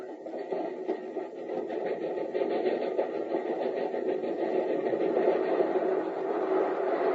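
A steam locomotive effect for a radio drama rolls along in a steady rumbling chug with a rhythmic mechanical pulse, continuous and fairly loud throughout.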